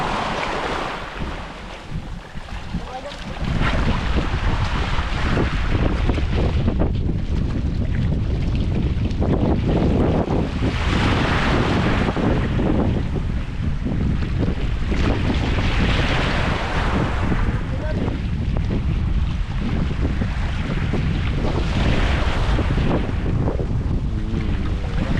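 A rough sea at high tide rolls in with big waves and strong wind, a continuous loud roar with heavy wind buffeting on the microphone and periodic swells of surf, no speech.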